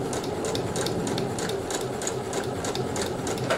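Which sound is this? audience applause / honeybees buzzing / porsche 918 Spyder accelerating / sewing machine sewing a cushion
sewing machine sewing a cushion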